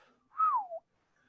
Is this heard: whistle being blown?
yes